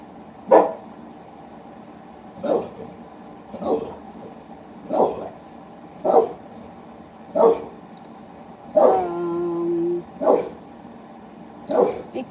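Dog barking indoors, single sharp barks repeated roughly every one to two seconds, fairly near, with one longer whining yelp in the middle and a quiet room behind.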